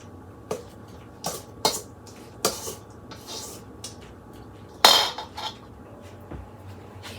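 Mixing sprinkled toppings into a broccoli salad produces scattered spoon scrapes and clinks against a bowl, several sharp close knocks spaced a second or so apart over a quiet background.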